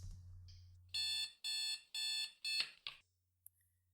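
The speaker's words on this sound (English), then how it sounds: "There are only a few things in life which are more irritating than being woken up by a blaring alarm." Blaring alarm clock going off in a quiet room: four loud, shrill electronic beep bursts in steady rhythm, then a short final chirp before it cuts out, leaving a faint low hum.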